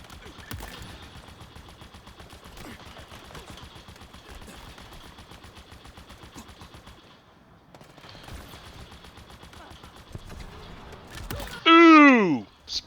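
Rapid automatic gunfire in Halo Infinite multiplayer, long bursts of close shots with a brief pause midway, a sharp sweeping effect at the end and a voice talking over it.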